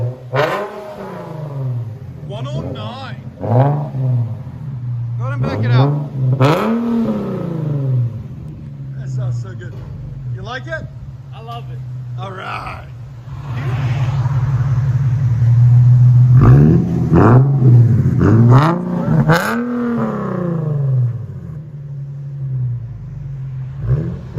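An Infiniti G37 3.7L V6 revs repeatedly in short bursts through an aftermarket exhaust, then holds a longer, louder rev before settling to idle, heard close with a deep rumbling exhaust.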